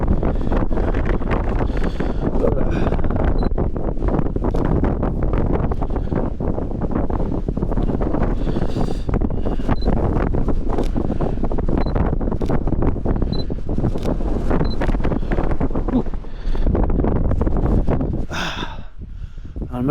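Wind blowing across an open Donegal landscape in Ireland, a constant loud buffeting rumble against the microphone that stays strong throughout and eases slightly at the very end.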